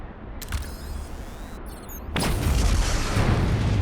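A detonation in the Star Trek: Resurgence video game bursts in after a quiet stretch, giving way to a loud, sustained rumbling roar that fills the rest of the moment.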